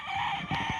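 A gamecock rooster crows on a gamefowl breeding farm in Lipa City, Batangas, giving a short, bright call that stands out over steady farm background noise.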